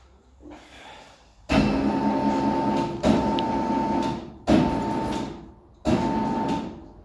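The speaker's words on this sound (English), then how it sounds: "So what we're going to do is drop the ramp down onto these axle stands, front and rear." A car lift ramp under a 1972 Triumph Spitfire lowers in four heavy, loud clunks, each onset followed by a sustained mechanical hum, with no talking.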